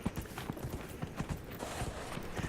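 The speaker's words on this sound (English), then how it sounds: "But I got this horse from a DLC, so I thought I'd ride him around." Horse hooves galloping in Dragon Age Inquisition, a DLC mount ridden across the game world, with quick, even clip-clop beats at close range and no talk over them.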